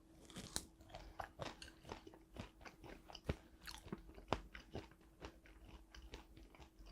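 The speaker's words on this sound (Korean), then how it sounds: "새꼬시를 많이 즐기는 편은 아니지만 요즘 뼈가 부들부들해니까 제가 한번 뭐 먹어볼게요" Close, crisp crunching of raw, thinly sliced bone-in damselfish being chewed, with repeated bites and grinding of soft bones in a steady rhythm and no talk.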